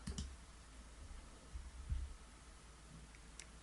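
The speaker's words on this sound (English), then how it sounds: "click Install Now. Click OK." A few faint, sparse computer mouse clicks in a quiet room while a WordPress plugin is installed, each a short isolated tick with long pauses between.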